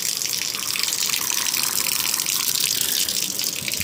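Water runs steadily from a tap into a container in a home, a continuous close, hissing gush with no break and no voices.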